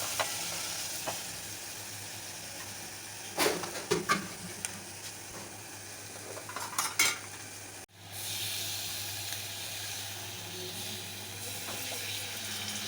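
Ginger-garlic paste, salt, chili and ground turmeric sizzle steadily in a frying pan while making a sour potato dish, with a few louder bursts of stirring and scraping over the constant hiss, no talking.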